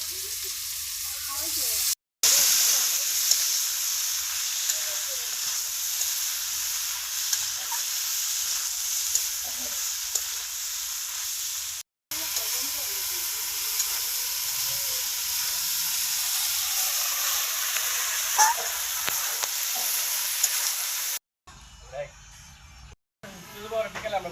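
Potatoes stir-fried in a pan give a loud, continuous sizzle and hiss with the occasional clink of a spatula, cut by a few brief silences near the end.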